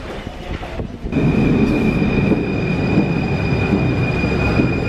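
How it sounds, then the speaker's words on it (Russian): A Paris metro train rumbles loudly past at close range, a steady heavy roar with a high whining tone and rattling wheels throughout. "Какие прикольные поезда здесь."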